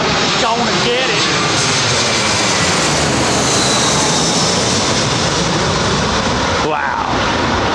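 A freighter aircraft comes in to land at Heathrow with a loud, sustained engine roar that fills the scene, steady and close throughout, with a voice speaking under the noise.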